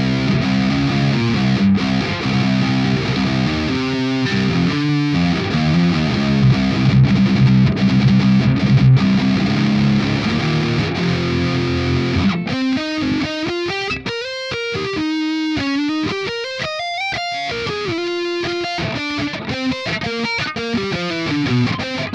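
Electric guitar run through a free rock/metal VST distortion plugin, first chunky distorted chords, then a sustained lead melody with bends, loud and continuous with no talking.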